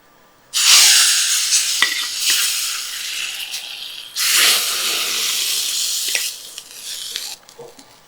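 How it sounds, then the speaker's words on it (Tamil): Asafoetida powder sautéing in a hot pan for Mangalore coconut rasam, loud bursts of hissing sizzle rising suddenly, easing, then flaring again, with a few sharp stirring taps. "கொஞ்சம் பெருங்காயப்பொடி சேர்த்துட்டு ஒரு நிமிஷம் நம்ம அப்படியே வதக்கி எடுத்துக்கலாம்"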